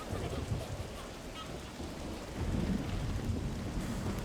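Rain on Greyhollow Island in the video game Diablo III: a steady, dense rushing hiss with low rumbling underneath that swells slightly partway through, no voices.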